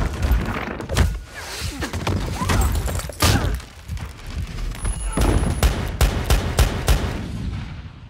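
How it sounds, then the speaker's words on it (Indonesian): Gunfire in a violent film fight scene from a mafia revenge thriller: a burst of sharp, loud shots and impacts spread through the passage, with the longest cracks near the start and a run of closely spaced shots toward the end. "Beruntung, Max bisa membalikkan keadaan dan berhasil menembaknya."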